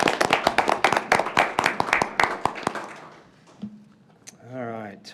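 Applause at a town council meeting: a small group claps in a rapid burst of sharp, close claps that fade out after about three seconds, followed by a voice speaking.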